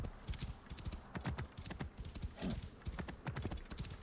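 Rhythmic clip-clop of horse hooves at a steady gait in the video game Assassin's Creed Origins, with a brief whinny partway through, close and fairly loud.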